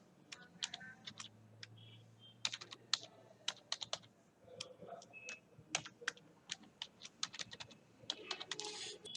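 Rapid keyboard typing of a password on a computer, irregular bursts of crisp clicking keystrokes with short pauses, close and alone with no speech.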